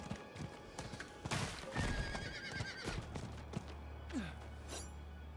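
A horse in Diablo IV gives a loud whinnying neigh amid clip-clopping hooves and in-game thuds, close and clear, the call rising and falling before hoofbeats carry on alone.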